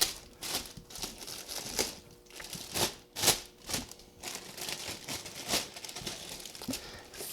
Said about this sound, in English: And I shall take this plastic off right away.